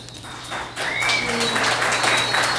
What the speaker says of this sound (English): So I'd really appreciate if we could just hold the applause.